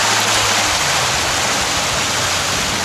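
A waterfall at Khao Sok's Chiao Lan (Ratchaprapha) Dam in Surat Thani, Thailand, roars in a continuous, loud rush of falling water, steady and close, with no voices.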